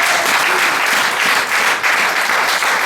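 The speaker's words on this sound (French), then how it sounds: "Est-ce que tu peux acclamer le Seigneur?" A church congregation claps in sustained, dense applause that fills the whole stretch, loud and steady with slight swells and no break.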